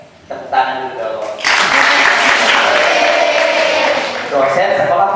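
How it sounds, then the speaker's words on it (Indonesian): An audience at a church holiday Bible school session breaks into sustained, dense clapping that swells after a brief spoken opening, with a voice heard at the start and again as the applause tapers. "Tepuk tangan dulu dong."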